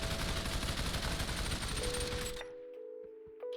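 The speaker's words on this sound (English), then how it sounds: "Now let's take a look at the bullet spread and recoil test." UMP submachine gun in Population ONE VR firing a continuous rapid burst for over two seconds, then stopping abruptly, leaving a faint electronic tone and a few soft clicks.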